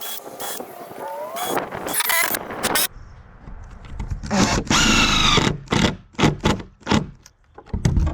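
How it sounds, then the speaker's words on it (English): A power drill drives screws into the wooden cross braces of a fence gate, with several loud whirring bursts of varying length and short pauses between them, close by, as a person talks. "So we'll put the screws on all 3 cross braces,"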